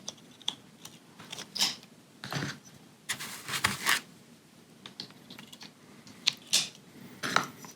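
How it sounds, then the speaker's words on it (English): Batteries go into the battery compartment of a Yi gimbal, giving a string of small, close plastic clicks and taps, irregular and fairly quiet. "just plop the batteries in"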